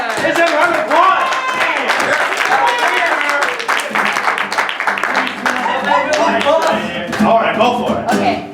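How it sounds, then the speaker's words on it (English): Audience applause at an improv comedy show as a volunteer is called onstage, a mix of distinct close hand claps and scattered crowd clapping with people talking and calling out throughout. "Let's have a round of applause!"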